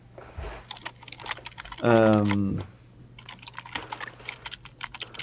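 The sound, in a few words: typing on a computer keyboard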